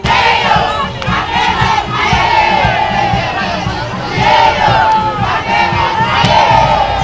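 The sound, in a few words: crowd cheering at Vital Kamerhe's rally in Kwango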